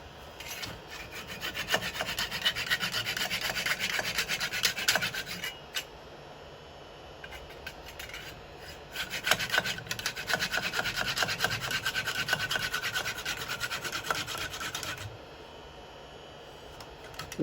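A saw rasps steadily through a bowling ball mounted for woodturning, close and loud, in two long bursts of rough rhythmic strokes separated by a brief pause near the middle.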